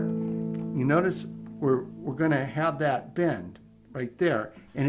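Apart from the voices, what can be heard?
No everyday noises stand out.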